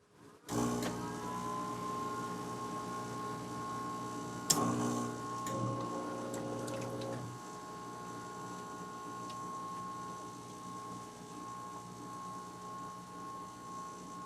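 A Solista coffee machine starts up and heats its boiler, giving a low steady hum with a few mechanical clicks and ticks early on, then settling into a quieter continuous drone, moderately faint and without talk.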